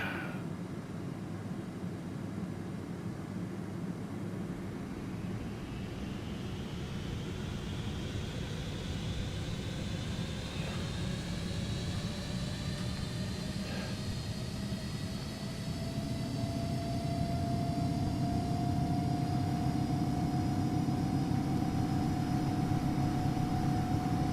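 A Delta Air Lines Airbus A330 in the FSX flight simulator spools its engines up for the takeoff roll, a steady roar with whining tones that climb in pitch and grow louder over about twenty seconds, heard alone.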